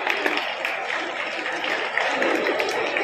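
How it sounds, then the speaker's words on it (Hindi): Audience applauding children after a stage performance at an Arya Samaj gathering; dense, steady clapping from a crowd sustained for about three seconds. "बहुत ही सुंदर प्रस्तुति, तालियों के साथ आप अभिनंदन करें बच्चों का"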